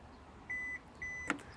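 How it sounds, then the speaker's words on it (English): Kia Niro PHEV liftgate giving a double beep when its opening height is set, two clear electronic tones close together followed by a faint click, in a quiet setting. "you've got that double beep and it's going to lock into that place too"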